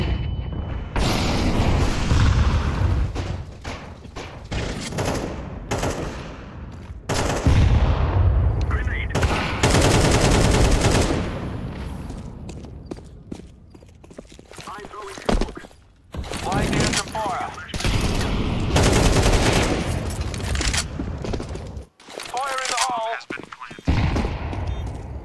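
Grenade blast and bursts of automatic gunfire in an online shooter match with cheaters, loud and dense, repeated volleys across the span with brief gaps, while players talk over the action.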